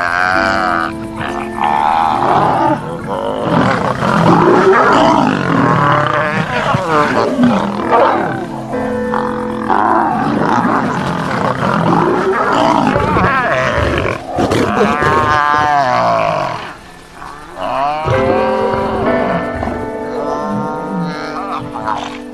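Lions roar, growl and cry out during a violent pride fight in the wild, a loud continuous tangle of snarls and anguished moans with a brief lull, heard beneath a narrator's voice.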